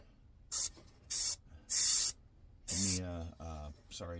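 An airbrush sprays primer thinned with Tamiya lacquer thinner onto the hood of a 1/25 scale 1972 Gran Torino Sport model car in three short hissing bursts, followed by someone speaking over a fourth spray burst.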